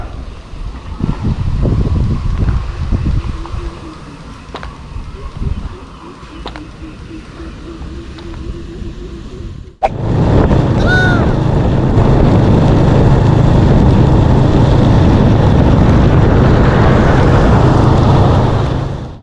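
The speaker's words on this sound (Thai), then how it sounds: "ทั้งลมทั้งจะฝนครับ" A voice talks over a low rumble at first, then a loud, constant roar of strong wind ahead of rain by the Ping River suddenly takes over, buffeting the microphone until the end.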